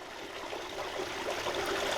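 Stream water tumbling over rocky drops toward a waterfall, a steady broadband rush and gurgle, moderately close and unbroken, with no voices.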